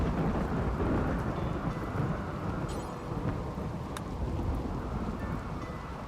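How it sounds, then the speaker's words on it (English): Steady rain pours down under rolling thunder, a dense continuous hiss with low rumbling swells and a few sharp crackles, close and constant throughout. "It's raining."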